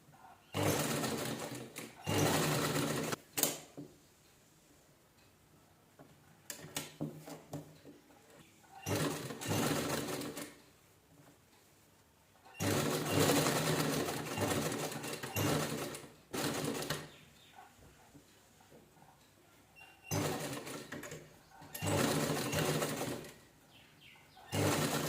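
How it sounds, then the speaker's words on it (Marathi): A sewing machine stitches around the neckline of a pentagon-style blouse in several separate bursts of steady, fairly close whirring, with quiet pauses between runs and faint bird cooing in the background. "व्यवस्थित असं गळ्याला स्टिच करून घ्यायचं एकसारखं."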